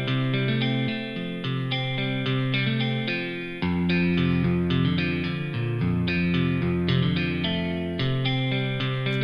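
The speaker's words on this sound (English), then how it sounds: "Let's try an electric one. Let's go roots rock." Electric roots rock guitar backing track from GarageBand, distorted chords strummed in a steady rhythm with a short pause midway, loud and alone without talk.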